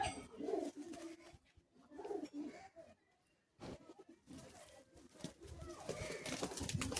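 Andhra pigeons cooing close by in low, rolling bursts, with rustling and fluttering between calls and a quiet gap partway through.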